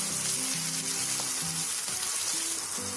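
Onions frying with turmeric and salt for Andhra-style gongura chicken, a steady close sizzle with soft stirring clicks running throughout, no voices.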